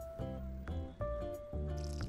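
Sour cream squelches onto a burger in a cooking video game, four or five short, wet squishes at a steady rhythm, faint and close, over a tonal game background.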